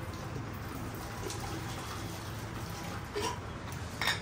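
Tap water runs steadily while taro root (arbi) is rinsed in a kitchen, a soft continuous wash with a few louder splashes near the end.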